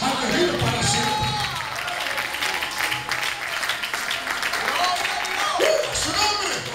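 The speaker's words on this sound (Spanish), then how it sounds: "Da un aplauso al que vive para siempre." A church congregation breaks into lively applause, a continuous patter of many hands with voices calling out over it, at moderate loudness throughout.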